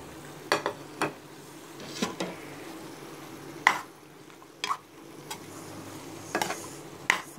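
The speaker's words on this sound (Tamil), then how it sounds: "இதில் அந்த எல்லா பொடியும் மிக்ஸ் பண்ணிடணும்." Spice powders being stirred into chicken curry in a pot, with sparse scrapes and taps of a spoon against the metal over a low, quiet simmer.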